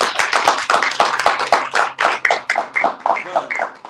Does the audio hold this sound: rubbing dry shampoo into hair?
no